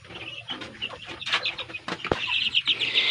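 Native chickens in their coop give scattered clucks and short calls with a few sharp wing flaps and rustles, close by, over a light background hiss and with no talking.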